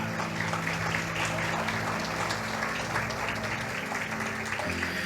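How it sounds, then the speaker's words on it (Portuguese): A church congregation applauds at an anniversary worship service, a dense, sustained roar of clapping from a large crowd that holds steady throughout, with music playing beneath it. "Se você crê nisso, aplauda ao Senhor e glorifica Ele de todo o coração."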